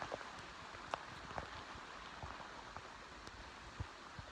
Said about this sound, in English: I'm gonna love you and leave you today with the rain pouring down.